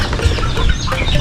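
Hens and chicks from three mother hens, kept together in a single coop, clucking and chirping in a steady, busy murmur at close range, loud and continuous with no talk over it.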